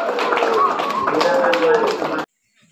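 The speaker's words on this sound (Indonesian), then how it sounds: "Mari kita beri tepuk tangan untuk" An audience claps at a children's scripture quiz contest: brisk, dense applause close by, mixed with voices, that stops abruptly after about two seconds and leaves near silence.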